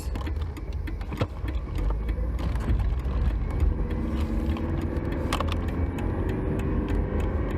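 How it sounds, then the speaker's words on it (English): A car drives along with a steady low road rumble heard from inside the cabin, with occasional clicks and light jangling like keys throughout and no talking. "Driving maneuvers."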